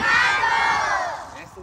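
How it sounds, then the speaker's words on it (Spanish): Crowd at a Three Kings Day gift-giving event yelling together in one loud sustained shout that swells at once and slowly fades over about a second and a half. "ayúdenme a gritar todos juntos a las tres"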